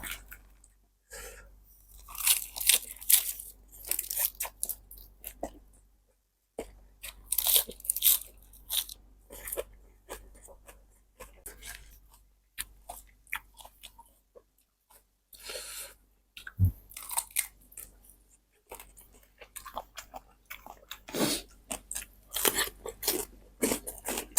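Loud, close crunching and biting from someone eating crisp vegetables with a spicy Thai chicken feet salad, in repeated bursts of chewing separated by brief pauses, with no talk.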